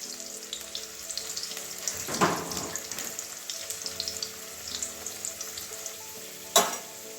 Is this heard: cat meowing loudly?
no